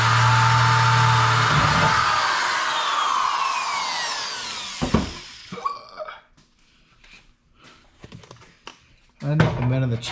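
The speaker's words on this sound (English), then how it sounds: "I got the holes drilled in the flanges" A power drill whirs loudly for several seconds drilling holes in metal flanges of a Saab Sonett trunk floor, then stops, followed by scattered clunks and a voice speaking.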